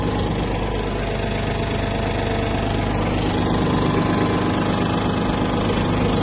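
A Yanmar F-175 Japanese mini tractor engine idles steadily nearby, a loud, even mechanical rumble with a slight rattling vibration that never changes pace.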